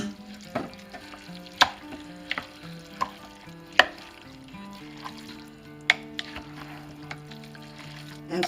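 Two pounds of ground turkey stirred in a pan for a mushroom and wild rice casserole, with faint frying crackle and sharp scraping spatula knocks over a tonal background hum.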